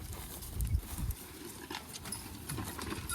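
Plow horses' hooves clip-clop at a steady walking pace, fairly close, with a low rumble of movement and faint outdoor background noise.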